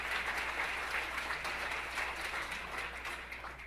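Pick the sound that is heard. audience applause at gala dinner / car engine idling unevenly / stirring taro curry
audience applause at gala dinner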